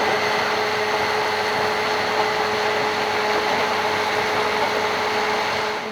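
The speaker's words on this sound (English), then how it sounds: "So I love the stick blender" A stick blender whirs steadily and loudly as it purées salmorejo, a tomato and oil mixture, keeping one even motor drone throughout with no talking.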